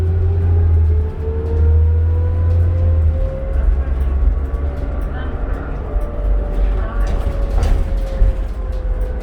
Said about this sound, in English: Pretty smooth ride on these buses.